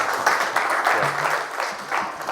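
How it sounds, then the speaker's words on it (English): Brief audience applause after a technology talk, a steady patter of clapping from a modest crowd at moderate volume, with a faint voice briefly audible underneath. "maybe an applause first"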